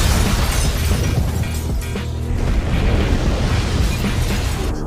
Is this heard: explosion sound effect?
yes